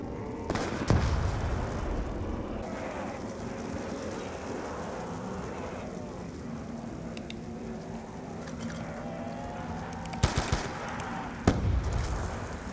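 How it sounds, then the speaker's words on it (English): Grenade blasts in Black Ops gameplay, several sharp booming explosions and gunfire bursts near the start and end over a busy background of game action. "Did I even hit anyone with a grenade? I noticed it took a while to blow up."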